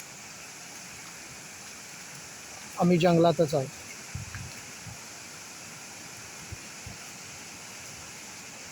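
A forest river flowing with force: a steady, even rushing roar of water fills the scene throughout, with someone speaking briefly over it near the start.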